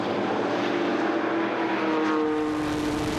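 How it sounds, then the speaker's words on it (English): Tuscan racing cars at speed on the Silverstone circuit during a 2006 Dunlop Tuscan Challenge race, a loud, sustained engine roar with a steady tone that shifts slightly as they pass close by. "A very impressive noise those cars make"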